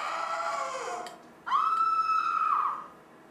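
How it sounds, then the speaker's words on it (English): A horror scream sound effect from the LittleBigPlanet 2 game editor: a loud, sustained high shriek lasting about a second, preceded by a fainter wavering vocal tone, then fading out. "Crowd, evil laugh, horror scream."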